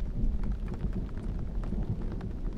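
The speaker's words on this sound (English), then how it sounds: "Back at it again, camping in a storm." Steady heavy rain drums on a truck camper during a thunderstorm with a flash flood warning, a continuous close patter over low rumbling thunder, with no voices.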